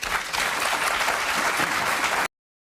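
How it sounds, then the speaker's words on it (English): A studio audience applauds Chris Patten in a dense, steady burst of clapping lasting about two seconds before it cuts off abruptly, with no talking over it. "I hate that they're applauding this."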